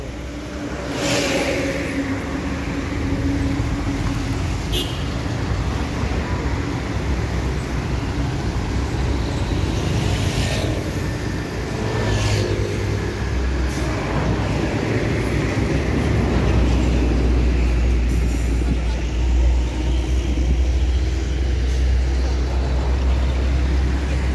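Heavy traffic is jammed on a road in Palembang, a continuous loud rumble of idling and creeping engines with low droning trucks and occasional brief horn-like tones throughout.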